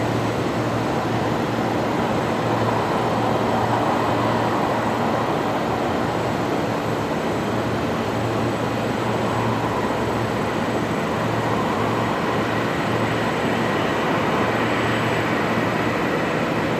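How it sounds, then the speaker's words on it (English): Qantas Boeing 737-800 jet at Brisbane Airport at night, a steady broadband jet roar with a low engine hum holding constant and fairly loud throughout, no voices. "This is the Qantas 943 service going to Perth tonight. 737-800."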